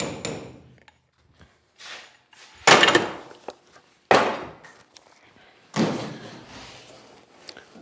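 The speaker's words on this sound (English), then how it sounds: "The door will swing open, once we unlatch it" Door of a 1951 Ford being worked in a garage, a few sharp wooden-sounding knocks and clunks spaced apart with quiet gaps between.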